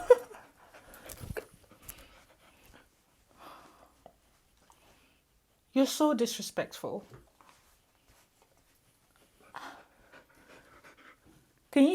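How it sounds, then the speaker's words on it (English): Quick, breathy dog panting comes in short bursts close by, broken up by a person talking and some faint rustling. "Can you hear him panting?"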